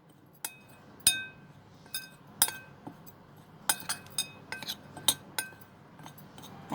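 A spoon clinks sharply and irregularly against a bowl while salt and spices are mixed for a chilli pickle. The bright taps come close and alone, with short pauses between them.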